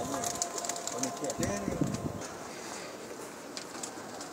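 Pakistani pigeons coo softly on a man's rooftop loft in Jeddah, a few low calls under nearby voices and light wind noise.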